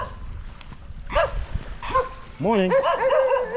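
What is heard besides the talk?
dogs barking on a beach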